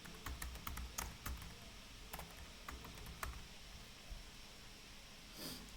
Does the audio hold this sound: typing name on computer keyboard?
yes